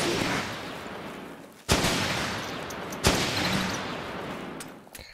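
Heavy .50 cal machine gun fire in the Running With Rifles video game: a dense, continuous wash of gunfire with two sharp, loud bursts standing out near the middle, heard alone without talk.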